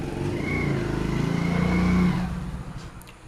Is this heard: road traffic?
yes